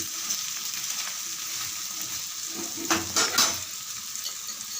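Egg dosa fries on a hot pan over medium heat, a steady bright sizzle with a few louder crackling spurts near the middle, no voices present.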